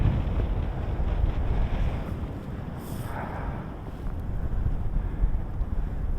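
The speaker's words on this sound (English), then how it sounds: "that's the wind kicking in now" Storm wind gusts buffet the microphone on a coastal clifftop during a gale, a continuous loud roaring rush that swells and eases without any talk.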